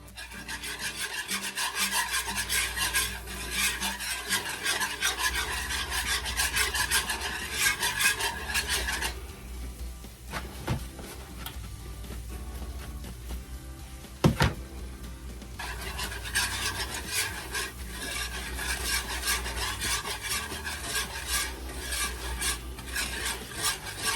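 A roux is stirred around a cooking pan in a steady scraping, rasping rhythm, close and continuous, with a short quieter stretch midway and a sharp clink from the utensil against the pan.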